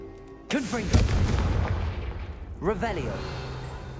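A Confringo spell in Hogwarts Legacy goes off with a sudden loud blast that rumbles and fades, followed by a second burst of sound about two seconds later.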